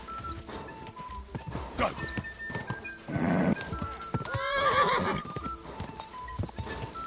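A horse in Kingdom Come: Deliverance 2 clip-clops with steady hoofbeats and lets out a couple of loud whinnies, close and busy, while someone speaks briefly over it.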